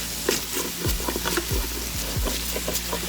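Utensil scraping seared beef short rib seasoning off the bottom of a pressure cooker pot, several quick scrapes against metal over a steady sizzle.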